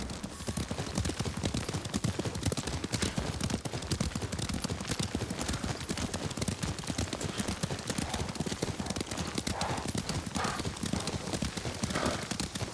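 A horse's hooves clip-clop in a steady, continuous rhythm while it is ridden in the samurai video game Ghost of Tsushima, with the hoofbeats close and dense from start to finish and some faint background ambience underneath.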